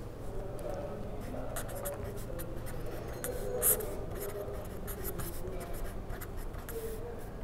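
Chalk or pen scratches out a mathematical formula in a multivariate analysis lecture, a faint run of short, rapid strokes and taps over a steady low room hum.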